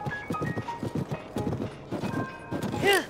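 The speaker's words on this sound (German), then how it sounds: "Oh, das Pferd ist schon cool," Zelda's golden horse gallops in Zelda Tears of the Kingdom, a quick run of rhythmic hoof clip-clops close up, ending in a short whinny.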